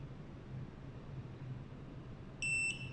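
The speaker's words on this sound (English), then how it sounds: "Now press the reset button for 5 seconds. You will hear a beep" After a stretch of quiet room hum, a universal JP-LT garage door keypad gives a short, sharp electronic beep near the end, following a factory reset.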